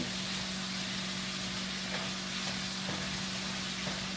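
Seasoned shrimp sizzle steadily in a hot pan for spicy shrimp and cabbage, a constant dense crackle with a low hum underneath and a few faint clinks, moderately quiet throughout.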